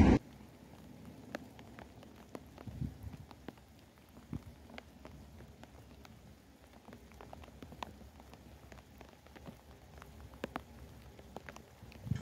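Steady rain falls at a heritage diesel railway, a soft continuous patter with scattered sharper drip ticks, fairly quiet and even throughout with no voices.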